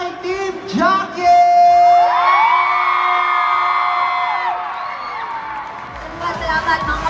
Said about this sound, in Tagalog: Mag-hiyawan para kay Team Jackie!